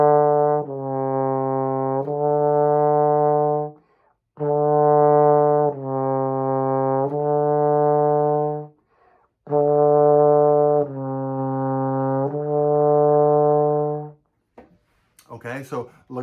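Trombone played legato with a quick, light slide, three smooth phrases of sustained connected notes separated by short pauses, clear and alone.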